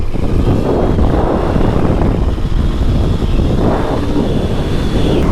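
Heavy, constant wind buffeting a microphone on a moving Suzuki DRZ400SM motorcycle, a dense low roar that stays loud and steady throughout with no pauses.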